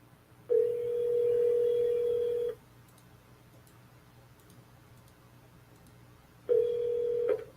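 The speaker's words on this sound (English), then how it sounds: "one pretty epic run in voicemail hell here" Telephone tones on a call stuck in a voicemail loop: a steady electronic tone lasting about two seconds, a long quiet gap, then the same tone starting again, clear and alone.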